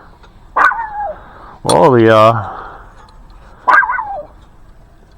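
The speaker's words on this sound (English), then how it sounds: "what are you barking about, baby?" A dog barks and yips in three separate bursts, one longer and louder in the middle, close by, with someone briefly speaking.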